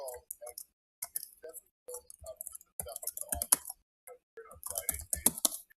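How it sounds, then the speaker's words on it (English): Fast typing on a computer keyboard, with irregular bursts of crisp key clicks, close and clear, alternating with short pauses under quiet talk. "I'll type them here"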